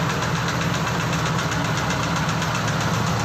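Mitsubishi 195 engine fitted with a loud howling exhaust pipe, running steadily nearby with a continuous droning, slightly knocking rumble for the whole stretch, without pauses or talk.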